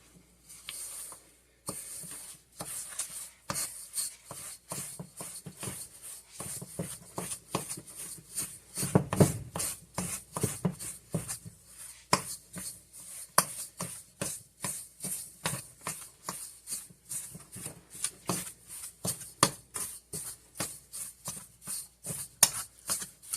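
Non-fat dry milk is mixed into a homemade candy mixture, a steady series of soft, rhythmic scraping and tapping strokes repeating close up at a quiet level.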